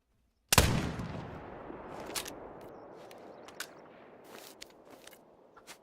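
A single loud rifle shot fired at a moose in theHunter: Call of the Wild, a sharp crack followed by a long fading echo and scattered faint rustles and thuds.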